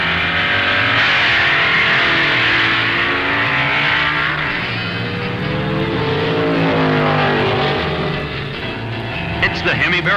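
Loud, sustained engine roar from drag racing cars as a Plymouth Hemi Barracuda and a Mustang race side by side, a dense continuous blare that eases slightly near the end, heard from nearby.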